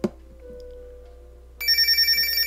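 A Bell Phone Easy Touch 77519 landline with caller ID rings on an incoming call: a click and a low line tone come first, then a loud, high electronic ringtone pulses in quick bursts and stays up close.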